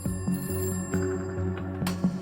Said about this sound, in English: 3:36 a.m. Chelmsford police in Essex receive a call from a local farmer, Jeremy Bamber, worried for his family's wel